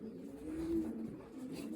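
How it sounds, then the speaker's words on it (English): A Jerez racing pigeon coos softly in a low, steady murmur, close by and alone, swelling slightly in the middle of the short stretch. "So this is a Jerez pigeon."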